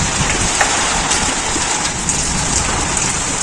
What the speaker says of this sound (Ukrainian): Чуєте, як громихає?